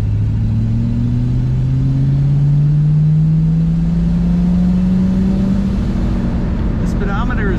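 A 1960 Pontiac Bonneville convertible accelerates, its engine droning loud and steady with the pitch rising gradually as it gains speed, close and continuous, with a brief faint higher sound near the end.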